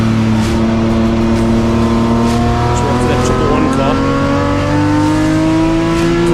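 BMW racing cars in a BMW M Performance Parts Race Series event drive on a circuit. The engines roar loudly and build up through rising revs, and a commentator talks over them.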